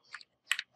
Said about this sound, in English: and now press enter, select the team, use WASD key for select your side